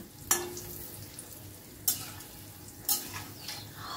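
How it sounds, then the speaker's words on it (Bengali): Chickpea koftas fry in a pan over a medium-high flame, giving a steady close sizzle broken by three sharp utensil taps as they are gently turned. "অল্প নাড়াচাড়া করে নিচের পোর্শনটা ভালো করে ভেজে নিতে হবে।"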